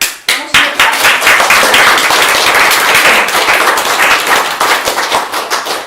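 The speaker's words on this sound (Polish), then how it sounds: "Then we need to give a clap." Loud, close clapping from a seminar audience, a brief burst at the start then a dense, steady round of applause that tapers slightly toward the end.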